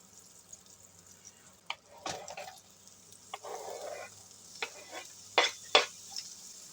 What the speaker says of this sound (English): So I'm going to melt this butter so I can do these veggies. Not veggies, these onions.